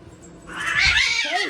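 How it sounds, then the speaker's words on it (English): Two house cats fighting indoors, breaking into a loud, rising caterwaul of yowls and growls that swells within a second and stays close and intense, with no talking. "Hey, my cats are fighting this way."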